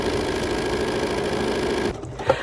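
A BERNINA sewing machine stitching a small fabric heart coaster, its fast steady whirring hum running continuously and close before stopping abruptly, followed by a couple of faint clicks.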